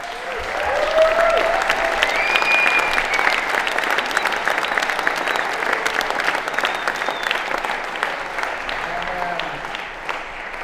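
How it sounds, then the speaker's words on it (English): Sustained audience applause at the Siinda Awards, a dense even wash of clapping lasting about ten seconds with a few faint voices and whistles mixed in. "a big applause for what they have done"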